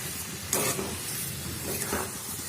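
Carrot halwa with added sugar is stirred in a pan over a soft constant sizzle, with a couple of scraping strokes from a utensil against the pan.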